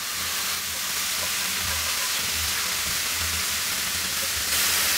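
Tomatoes added to chillies frying in a pan for tomato bharta, a loud continuous hissing sizzle, close and steady, with faint low clatters beneath.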